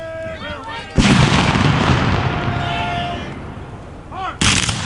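Rifles fire in a volley by rank at a Civil War Battle of Olustee reenactment, two loud blasts roughly three seconds apart with a long rolling echo between them, outdoors with shouted voices in the background.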